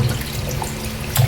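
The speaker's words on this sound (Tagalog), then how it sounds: "Pagkatapos hugasan, buhos ang tubig." Water pours from a tap over pork cubes being washed, a steady splashing stream with a brief louder gush near the end and no talking.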